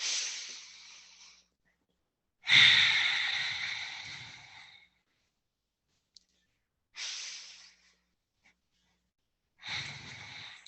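Three big, deep breaths taken during a yoga session in camel pose, each a long, loud, close inhale or exhale that fades out, separated by silent pauses.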